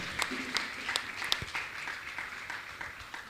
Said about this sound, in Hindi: इनके सम्मान में जोरदार ताली बजाकर इनका सम्मान करें